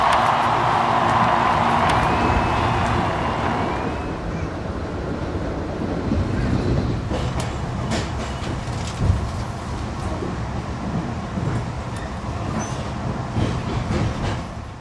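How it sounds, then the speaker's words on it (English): An empty passenger train rolls along the rails toward Carbondale, heard from on board. A steady, close rumble with scattered wheel clicks and rattles continues throughout, with wind-like noise and no talk. "As I rode that empty train back to Carbondale"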